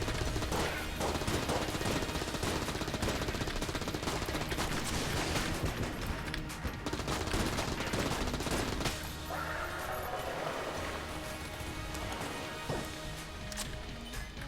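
Gunfire in the video game Enter the Gungeon during an akimbo run: dense, rapid shots and crashing impacts pile up into a steady barrage, faint under the game's music.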